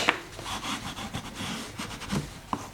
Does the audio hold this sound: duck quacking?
no